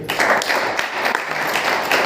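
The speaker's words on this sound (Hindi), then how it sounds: "ऐसी महान शख्सियत के लिए तालियां होनी चाहिए।" An audience claps together in a short burst of applause, a fairly loud and even patter of many hands that carries on with little change.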